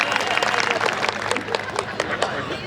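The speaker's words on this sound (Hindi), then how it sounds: "एक बार तालियां बजाइए सांसद जी के लिए" An audience applauds a member of parliament at a Hindi-language public gathering, with dense, lively clapping from many hands filling a short, continuous burst.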